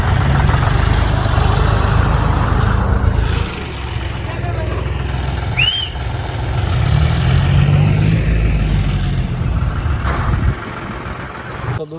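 Several tractors, one of them a John Deere, idle together outdoors with a steady low engine rumble under continuous nearby talk and a brief whistle-like squeak partway through.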